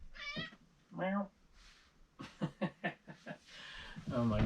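A cat meows several times in short, close cries, mixed with a person's chuckling and a voice answering in a mock meow.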